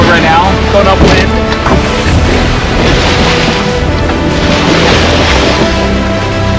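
Strong 20-knot wind roars steadily over a Mini 6.50 racing sailboat sailing upwind, a loud, constant buffeting rush with thumps of hull and water, and a voice is faintly audible beneath it.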